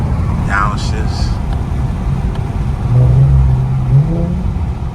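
An Infiniti Q60 with muffler and resonator deleted downshifts, a steady low exhaust drone rising briefly into a louder burble midway, heard from nearby under wind and road noise.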